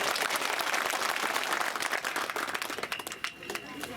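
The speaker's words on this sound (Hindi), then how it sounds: "अरे खुश हो तो ताली बजाओ।" A crowd claps at an outdoor political rally during a 2024 Lok Sabha election public meeting in Ashoknagar, dense and loud at first, then thinning into scattered claps.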